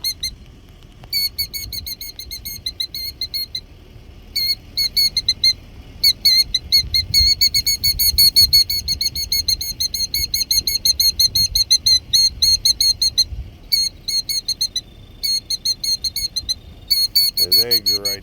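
A killdeer guarding its nest calls again and again in loud, shrill, rapid bursts, separated by brief pauses, close by in an open outdoor setting with low background rumble.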